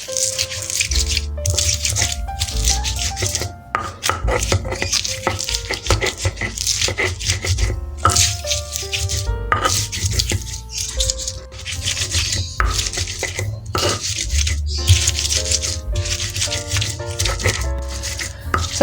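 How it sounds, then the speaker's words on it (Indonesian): Shallots and chilies being ground in a stone mortar for Sambal Cibiuk from Garut, a continuous rapid scraping and knocking of the pestle, loud and close, with music playing throughout. "Setelah kita ulek bawang dan cabenya"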